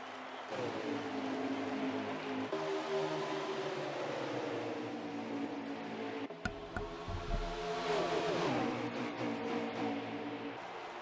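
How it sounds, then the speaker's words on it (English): Stock car engines in a NASCAR video game at Dover International Speedway roar past in waves, one car after another rising and falling in pitch as they speed by, with a constant droning background of racing noise. "Sound of the cars flying by at speed down the straightaways"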